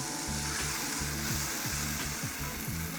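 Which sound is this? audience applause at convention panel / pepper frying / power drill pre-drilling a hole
pepper frying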